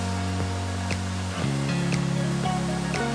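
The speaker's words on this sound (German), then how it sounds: "sieht echt cool aus, der Wasserfall." A tall waterfall in Indonesia, running high after heavy rain, gives a steady, close roar of rushing water with a constant droning hum beneath it and no one speaking.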